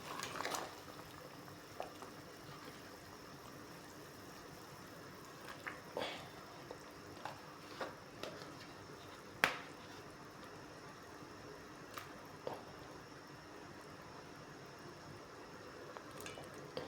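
Tilapia and moringa soup with sweet potato tops bubbles in a covered pot, a soft, steady low simmer broken by faint scattered ticks and pops, quiet and continuous with no voices.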